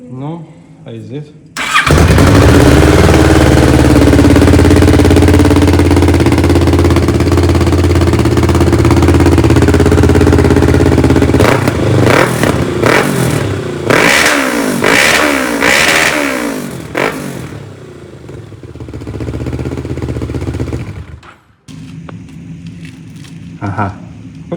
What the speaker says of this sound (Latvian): Palaist motociklu bez izpildē.